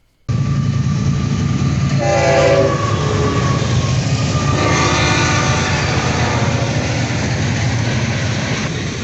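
CFL freight locomotives 702 and 709 pass northbound at high speed, loud and close, with a steady rumble of rolling wagons and horn blasts sounding early in the passage.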